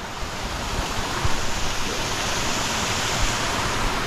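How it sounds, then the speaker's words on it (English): A waterfall on a creek roars as a constant, close, broadband rush of falling water, steady throughout and with no voices. "I'm going to show you all this pretty waterfall."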